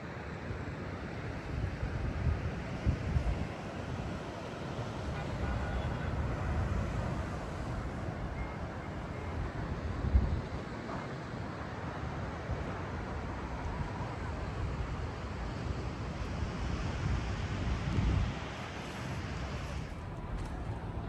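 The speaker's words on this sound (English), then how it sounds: "That's the Atlantic Ocean you are watching." Atlantic Ocean surf and wind at Fort Amsterdam on the Ghana coast, a steady broadband rush of waves with wind buffeting the microphone and a few louder surges, continuous throughout.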